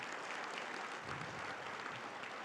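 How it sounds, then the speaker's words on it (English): A luncheon audience at a girls and women in sports event claps for a staff member and the communications team, a steady soft patter of many hands, faint and somewhat distant. "Can we give a round of applause for Tommy and our comms department"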